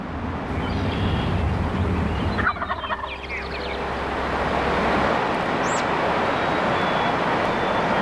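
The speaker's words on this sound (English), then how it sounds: "in the company of wild turkeys" Wild turkeys gobbling in a North Dakota grassland, a few rapid rattling gobbles carrying over steady outdoor background noise, with a faint high bird call later on.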